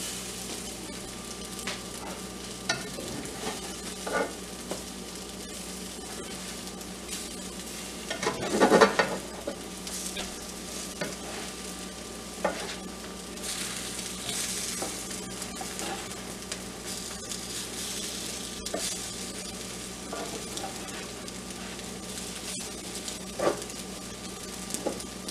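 French toast sticks fry in a pan with a soft constant sizzle, broken by occasional scrapes and a louder clatter as pieces are turned, close and steady with no talking.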